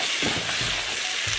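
Boiled peas tipped into a pan of fried spice masala for Bangladeshi chatpati, setting off a loud, broadband sizzle with a few soft stirring thumps close by.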